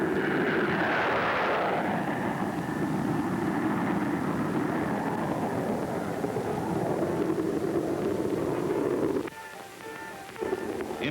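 A Bell P-59 Airacomet early jet aircraft roars through a high-speed test run, a loud continuous rushing jet noise that swells and slowly shifts in pitch before dropping away abruptly near the end.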